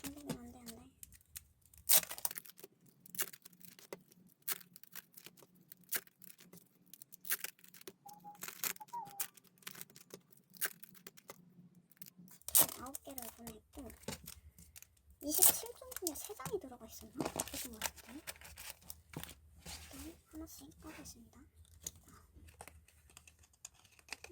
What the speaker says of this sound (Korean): 일단 다 비닐만 비닐만 까볼게요